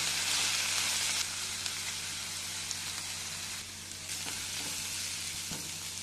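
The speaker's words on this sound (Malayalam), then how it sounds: "അതിന് ശേഷം ഉള്ളി ഇട്ട് കൊടുക്കാം. ഇതെല്ലാം കൂടെ നമുക്ക് നന്നായിട്ടൊന്ന് വഴറ്റിയെടുക്കാം." Mustard seeds, curry leaves and onions sautéing in a pan for a Kerala squid roast, a continuous bright sizzle with occasional spatula taps, no talking.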